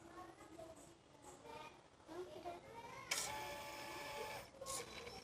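A homework writing machine used for drawing switches on and whirs steadily, its motor buzz rising abruptly and holding under a nearby voice.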